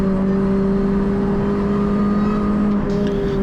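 R53 Mini Cooper S on a track lap at Oulton Park, engine holding a loud, steady drone close up, with a slight dip near the end.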